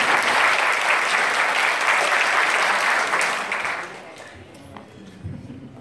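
Loud applause from guests at a Turkish engagement ring ceremony, dense steady clapping for about four seconds before it fades into quieter room noise and murmur.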